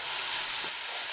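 Veggie chunks fry in hot oil, giving a dense, even sizzle that stays close and steady throughout with no talking.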